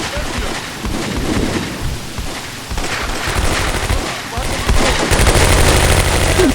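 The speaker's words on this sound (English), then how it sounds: "The mortar is striking, and that group actually just took cover." Mortar strikes and gunfire rumble in the Combat Mission WWII game, a continuous loud barrage of booms and crackling shots that swells toward the end, with someone talking over it.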